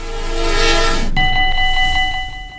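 A train rushes through a closed level crossing in Ezegem, Belgium, with a loud blast of its horn, then a steady multi-tone crossing bell rings as the roar fades.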